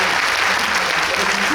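Audience applause for actress Lee Joo-young at a film screening Q&A, a steady dense wash of many hands clapping with no break, heard alone over the short stretch.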